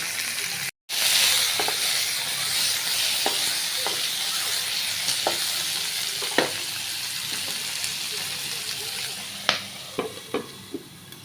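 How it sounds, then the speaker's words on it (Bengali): Pumpkin peel, garlic, onion, green chili and fish scales fry in a pan with a steady, close hiss and sizzle, broken now and then by light clicks of stirring. "তো বন্ধুরা এখন আমি এই ফুলকাগুলো ভেজে নিব। মিষ্টি কুমড়ার ছিলকা, রসুন, পেঁয়াজ, কাঁচামরিচ আর ফুলকা, এটা ভালো করে ভেজে আমি ভর্তা বানাবো।"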